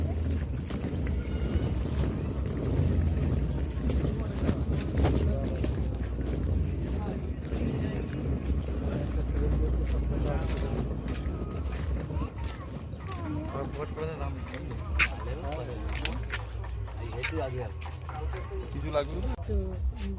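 Ride on a wooden boat across open water, with steady wind buffeting the microphone and a low continuous engine-like rumble throughout, while people talk nearby.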